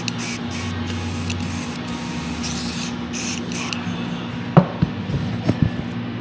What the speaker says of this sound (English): And then this instant dry set, spray that on there.